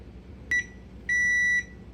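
A kitchen timer set while noodles boil gives two electronic beeps, a short chirp followed by a longer sustained tone, clear over a quiet room.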